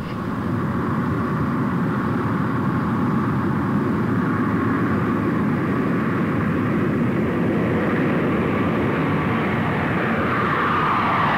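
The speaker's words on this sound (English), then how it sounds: "Its Rolls-Royce jet prop engines were the first commercial departure from the all-piston-driven airplane" Steady, loud roar of an airliner powered by Rolls-Royce jet prop engines. A continuous engine drone with a broad hum holds unbroken for over ten seconds.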